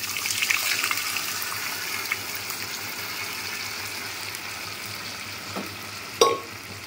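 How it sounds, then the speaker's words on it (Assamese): Boiled dal poured into a pan of fried spices, giving a steady sizzling, watery hiss that runs the whole time, with a brief louder splash near the end. "এতিয়া মই ইয়াত দালি, বইল কৰি থোৱা দালি এয়া ঢালি দিম।"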